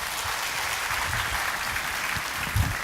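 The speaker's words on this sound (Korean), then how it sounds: "여러분, 나오실 때 뜨거운 박수로 맞아주시기 바랍니다." A church congregation at a Sunday worship service applauds to welcome a guest speaker, sustained crowd clapping that holds steady throughout with a slight swell near the end.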